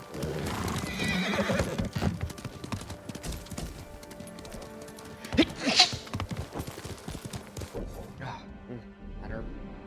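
Kage, a horse in Ghost of Tsushima, trots with steady clip-clopping hooves and gives a loud whinny midway through, with some voice mixed in under the hoofbeats.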